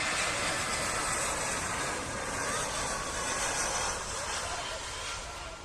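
A Batik Air airliner comes in to land, a broad, airy jet roar heard from some distance that holds steady throughout.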